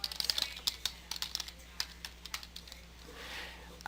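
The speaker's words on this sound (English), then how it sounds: "I'm going to just type it manually." Rapid typing on a computer keyboard while entering a web address, a quick run of crisp key clicks with brief pauses, close and clear, tapering off toward the end.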